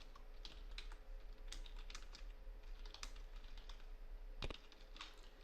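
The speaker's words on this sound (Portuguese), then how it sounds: "E aí que eu digito" Steady typing on a computer keyboard while entering a program, a continuous run of close, soft key clicks with a few sharper taps, quiet and alone.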